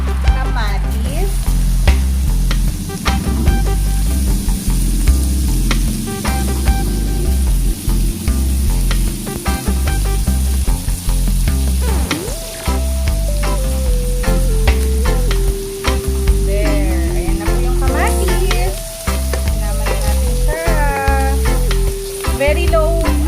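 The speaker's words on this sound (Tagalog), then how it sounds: "Then, lagay natin yung kamatis." Tomatoes sautéing in a frying pan for ginisang munggo, a loud, close, continuous sizzle with stirring scrapes, accompanied by background music and no talk.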